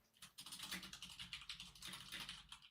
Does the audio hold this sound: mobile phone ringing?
no